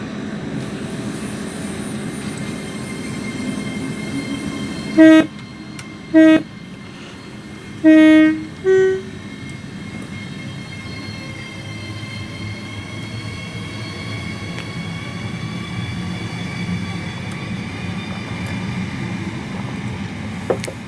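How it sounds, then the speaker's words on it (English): A Lumo Class 803 electric train's motor in Train Simulator 2022 drones steadily with a rising whine as it pulls away, punctuated by a few short horn toots early on. "you can hear what the motor sounds like"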